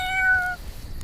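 A cat lets out one clear, drawn-out meow close by, with a wavering pitch, then fades into quiet room tone.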